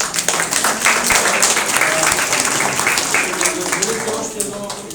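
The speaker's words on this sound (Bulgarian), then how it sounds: "Аплодисменти за преподавателите." Applause at an exhibition, a lively round of clapping from a group with voices mixed in, holding steady for several seconds before easing off slightly.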